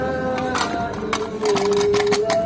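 Rattling, buzzing vibration from a torn drive shaft cover on a Honda Jazz GK5 with a cold engine in the morning, with a steady whining hum and repeated short rattly bursts close by.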